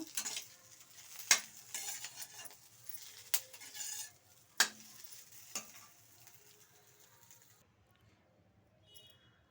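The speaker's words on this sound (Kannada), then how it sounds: "ನೋಡಿ ಈ ರೀತಿ ಚೆನ್ನಾಗಿ ತಿರುಗಿಸ್ಕೊಡಿ ಕರಿಬೇವು ರೋಸ್ಟ್ ಆಗುತ್ತೆ ಅವಾಗ" Curry leaves and green plantain slices frying and being stirred in a pan, with a steady soft sizzle and sharp scraping clicks of a spatula against the pan, fading toward quiet near the end.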